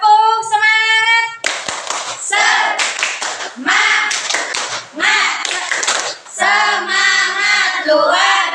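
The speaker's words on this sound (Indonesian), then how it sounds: "Mari kita tepuk semangat bersama." Children doing rhythmic 'tepuk semangat' clapping in a classroom, sharp patterned claps and taps alternating with chanted voices in a lively, loud call-and-response rhythm.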